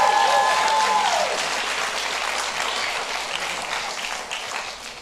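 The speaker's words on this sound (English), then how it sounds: "Somebody clap your hands and shout." A church congregation clapping and cheering, a dense wash of applause heard from within the crowd, loud at first and slowly tapering, with a voice briefly rising over it at the start.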